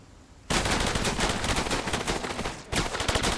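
Sustained automatic gunfire in the video game Cepheus Protocol, a dense loud burst of rapid shots lasting about two seconds, a brief pause, then another burst starting up.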